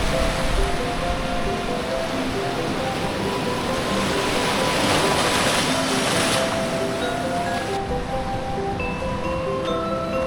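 Continuous ocean surf rushes and washes onto Wediombo beach in Gunungkidul, a broad steady roar with no voices.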